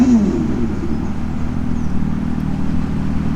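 A loud, close synthetic engine drone from a Revolt RV 400 electric motorcycle, with a steady low rumble and a brief rising whine at the start, imitating a sports bike.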